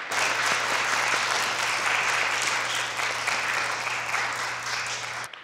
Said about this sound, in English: can we just give the string ensemble a round of applause?